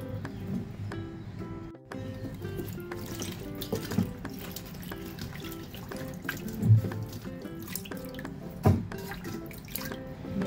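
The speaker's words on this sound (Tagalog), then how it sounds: "linisan na natin itong ating broccoli. Hugasan po natin ng 2 to 3 times." Broccoli being rinsed under a running kitchen tap, with a steady wash of flowing water, dripping and splashing in a sink, plus a few brief clunks close by.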